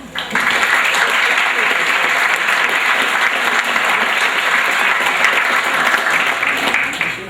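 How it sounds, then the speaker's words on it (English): An audience at a senior sports banquet applauds steadily for several seconds, dense sustained clapping filling the hall, loud and unbroken before tapering slightly at the end. "Please join me in a round of applause for all of them."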